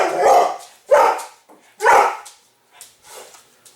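A dog barks in a kitchen near a roast turkey TV dinner: three loud, close barks about a second apart, followed by a couple of softer, shorter yips, with no talking.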